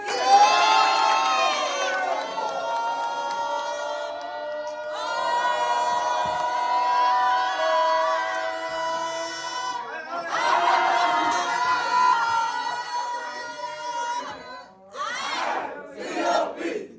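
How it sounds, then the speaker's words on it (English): A crowd at a marketing group motivation event roars with loud sustained cheering, whooping and shouting in repeated swells that rise and fall, close and energetic, with no clear separate claps. "So let's give it a big, Bigger. bigger. Round of applause for Emil."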